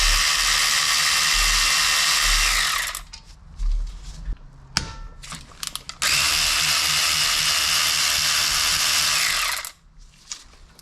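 A ratchet working on brake parts of a 2001 Toyota Camry, loud and close, with long whirring runs and a clicking, clattering stretch in between.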